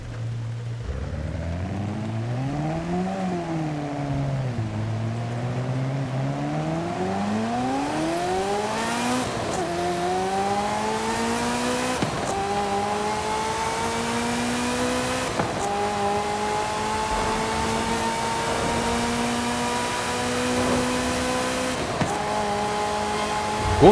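Ferrari F40 Competizione racing in Forza Horizon 5 on a wet circuit, its loud engine revving and climbing steadily through the gears with brief dips at each shift, running continuously without talk.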